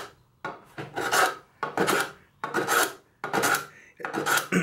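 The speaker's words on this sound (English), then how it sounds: "Continue planing in an alternate direction until we've had both lines smoothed off." A block plane shaves the end grain of a wooden board in five steady rasping strokes, each about half a second long and separated by short pauses. The strokes are close and loud, with no voice over them.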